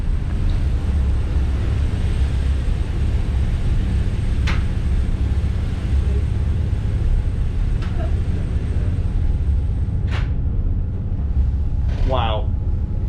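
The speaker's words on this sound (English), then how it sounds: "it's just a hum, gentle hum from the engines" Engines of a Princess Y85 superyacht at sea give a steady, low, gentle hum inside the closed cabin, with a few brief faint clicks and soft talk over it.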